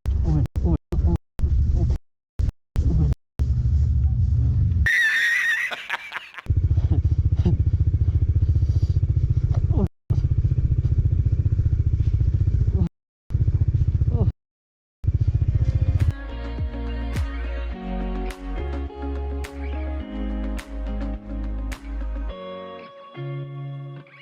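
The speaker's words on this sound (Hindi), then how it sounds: "पहले ऐसे चलानी है बाइक इतनी बर्फ में" A motorcycle rides through deep snow in winter Spiti Valley, its engine rumbling loud and close in long stretches broken by abrupt cuts, later giving way to steady, tonal sound that may be music.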